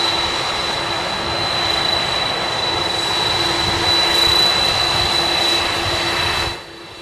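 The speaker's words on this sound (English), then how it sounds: "people watching a large airplane taxiing at Palm Beach International Airport" Air Force One taxis at Palm Beach International Airport with a loud, continuous jet-engine roar and a high whine. The roar holds steady, then drops off abruptly near the end. No one talks.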